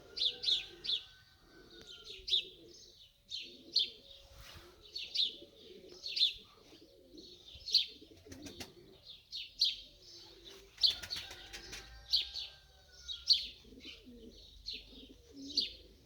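A pigeon coos repeatedly in low, rhythmic phrases at a steady pace while sharper chirps recur above it, soft and close, without speech.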